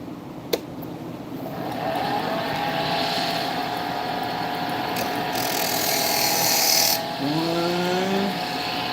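A wood lathe spins up and runs with a steady, continuous mechanical drone and rising whine, fairly close, after a sharp click at the start; the motor note shifts and wavers near the end.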